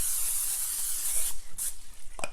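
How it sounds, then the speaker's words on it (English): Nonstick cooking spray hisses out of a can into a 9x13 baking pan in one long steady burst, then a brief second spritz and a few light clicks close by. "I'm going to spray it with nonstick spray"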